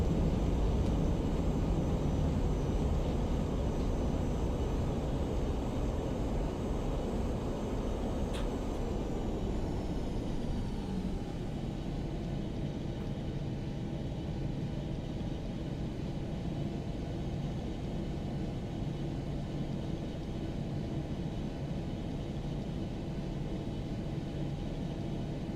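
Thrust reversers roaring on an airliner's landing rollout in the Prepar3D flight simulator, a loud steady broadband rumble that eases off after about ten seconds into a lower, settled engine hum.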